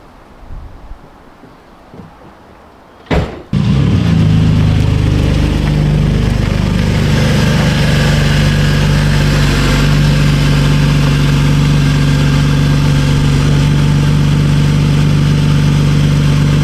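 A wide-body BMW E46 330Ci starts after a brief quiet stretch, then settles into a loud, close, steady engine drone as the car rolls down a driveway.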